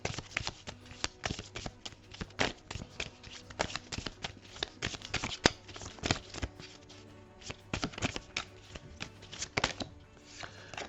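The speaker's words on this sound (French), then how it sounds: "Je mets toutes les cartes, ensuite je ferai la lecture." Tarot-style cards being laid out one after another for a card reading, giving a steady run of close, crisp flicks and soft slaps with no talk.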